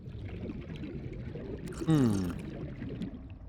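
Reclaimed water pours in a short gurgling burst in Subnautica: Below Zero, a brief liquid splash rising out of a murky underwater game ambience.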